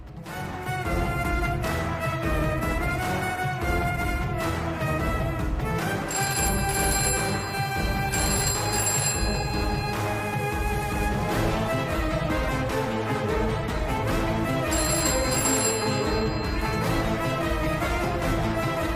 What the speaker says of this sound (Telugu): ప్రమీల ఫోన్ చేసింది